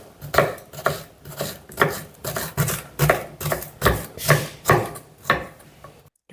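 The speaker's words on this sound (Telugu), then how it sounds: "ఇప్పుడు ఒక 3 పచ్చిమిర్చిని కూడా సన్నగా కట్ చేసుకుందాం" A knife finely chopping three green chillies on a wooden board for road-side style idli batter bondas: about a dozen crisp, evenly spaced chops at a steady rhythm, close and clear, with no talking.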